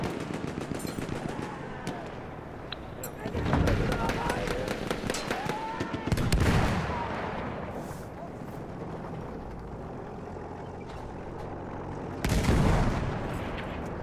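Artillery barrage in the World War I shooter Battlefield 1, loud booming blasts landing among continuous rattling machine gun fire, with several heavy impacts spaced across the clip and a radio voice speaking over the battle.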